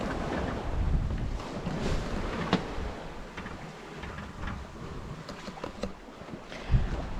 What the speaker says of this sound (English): The wind has changed direction now. It's now coming out of the northwest